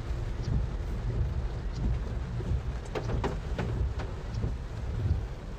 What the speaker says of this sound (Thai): ตอนนี้ฝนตกนะครับ